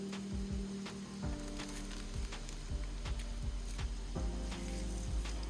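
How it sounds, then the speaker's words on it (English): Fish pieces frying in hot oil outdoors, a steady close sizzle with constant crackling and popping throughout. "All right, sizzling lightly right there."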